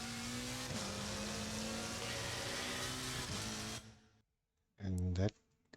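Race car in Assetto Corsa Competizione at Kyalami accelerating, a loud sustained engine drone with rising gear-step tones, cutting off briefly before another short revving burst; a voice talks over it.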